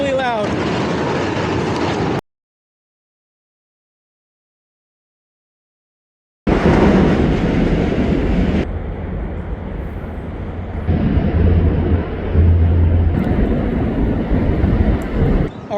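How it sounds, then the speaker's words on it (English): A loud, steady rumble of a train rolling over a bridge across New York's East River, with low droning and some rattling, broken by a stretch of silence early on. "that bridge has trains going over it every couple minutes"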